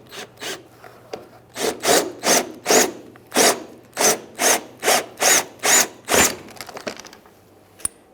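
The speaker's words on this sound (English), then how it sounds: "along each corner you're also going to have a rivet that you have to drill out" Drill bit grinding through the corner rivets of a 2011-2021 Jeep Grand Cherokee front grille, about a dozen loud, close bursts in a steady rhythm, each a second or less, with short pauses between.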